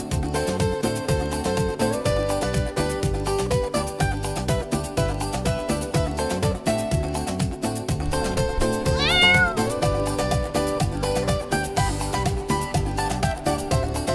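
A cat at a pet-friendly shopping complex in Longgang, Shenzhen, gives a short meow midway through, fairly faint against continuous background music.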